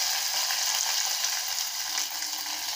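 Sliced large onions frying in hot oil with cinnamon, cloves, garlic and curry leaves, a steady close sizzle with no voices.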